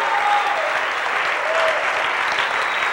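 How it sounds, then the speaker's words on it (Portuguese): Church congregation applauding during a Sunday family worship service, a broad continuous roar of clapping from a large crowd, steady and fairly loud throughout. "Alguém vai aplaudir Jesus nesse lugar?"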